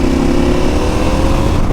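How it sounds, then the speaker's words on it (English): A loud, steady KTM 890 motorcycle engine with an Arrow aftermarket exhaust and decat, giving a deep, throaty exhaust note, running close by without pause for the whole moment. "the Arrow exhaust and the Decat, and that sounds so much better."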